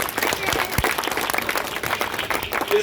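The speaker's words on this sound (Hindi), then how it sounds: "इस बेटी के लिए बहुत जोरदार तालियां बजा दीजिए।" An audience at an Ashoka Vijayadashami event gives a girl steady, dense applause, many hands clapping close and loud throughout the short stretch, with faint voices mixed in.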